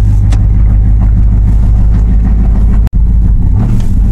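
Ram 1500 pickup engine revving steadily while reversing in Sport Plus mode, a loud, close mid-pitched drone with a brief cut near the end.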